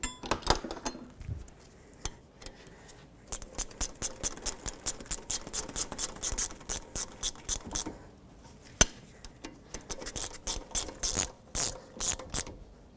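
Rapid ratchet clicking in repeated bursts as caliper bolts are tightened on a 2003-2007 Nissan Murano during rear hub and wheel bearing replacement, close and clear with short pauses between runs.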